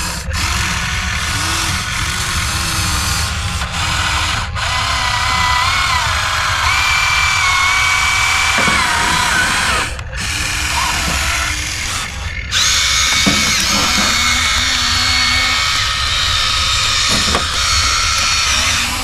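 A HUINA 1593 RC toy excavator digging with an attachment, its motors whining steadily and loudly throughout with shifting pitch and brief dropouts, scraping mixed in, close and continuous with no voices.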